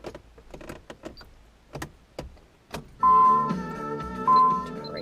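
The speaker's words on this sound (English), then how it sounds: "Let me roll the window down." Power window on a 1990 Nissan 300ZX rolling down inside the car, a few soft clicks and knocks followed by a loud, steady motor whine that swells and holds to the end.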